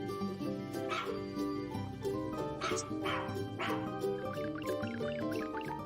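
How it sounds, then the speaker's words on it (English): A dog barks and yips a few times over a busy musical backing, the barks short and bright, mixed in with the melody. "Dog."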